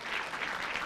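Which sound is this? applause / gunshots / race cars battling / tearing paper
applause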